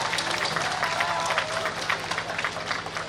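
Audience applause at an interfaith arts performance and sports event, a moderately loud patter of clapping from a crowd over a low steady hum.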